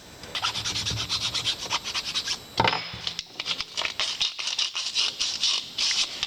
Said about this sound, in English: right now I'm just using a file and making them trying to make the minor details that need changed